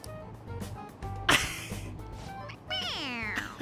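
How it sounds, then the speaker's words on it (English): A toy cat in the Persona 5 Royal video game meows when its head is pressed, giving a rising-falling electronic mew near the end over a background game soundtrack, with a voice briefly heard earlier. "It meows when you press on its head."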